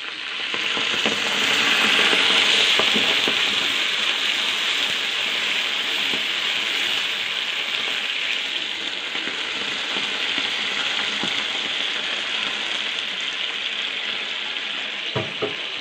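Onions fry in a pan, browning for Dawood Basha kofta, with a continuous close sizzling hiss and occasional clicks of stirring, steady throughout with no talking.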